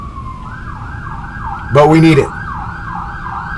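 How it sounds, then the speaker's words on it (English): A wailing emergency siren sweeps up and down repeatedly at steady volume, with a man's brief speech cutting in over it midway. "It's an emergency, obviously. Sirens and stuff."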